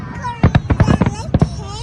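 Australia Day fireworks burst in a quick run of sharp pops, several in a row and then a pair, while someone talks excitedly between them.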